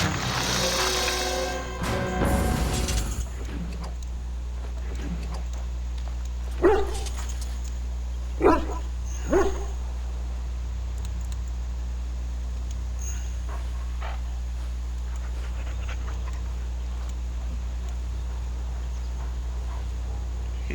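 A dog in Dragon Age: Origins barks three times in quick succession, fairly close, over a steady low game hum. A brief burst of other game sound comes before the barks.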